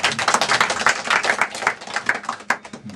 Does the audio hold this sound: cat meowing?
no